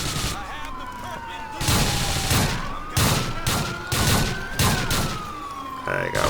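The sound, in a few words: shotgun fire in video game GTA 4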